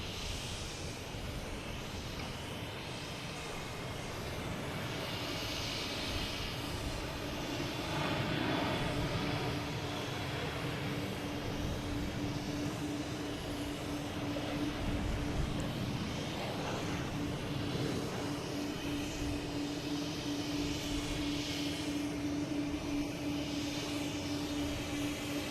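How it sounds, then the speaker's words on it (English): An American Airlines Embraer E-175 jet bound for JFK at Boston Logan sounds a moderate, continuous engine rumble and hiss with a faint steady tone, swelling slightly midway, heard from a distance without talk. "American Airlines heading to JFK, E-175"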